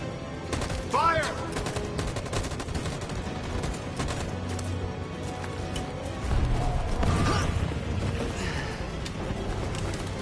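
Machine gun fire in the video game Detroit: Become Human, with dense bursts of rapid gunshots and crashes amid a busy battle mix and faint voices in the background.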